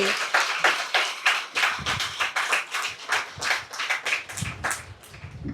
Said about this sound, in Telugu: మనందరం కూడా ఇంకా పెద్దగా చప్పట్లతోటి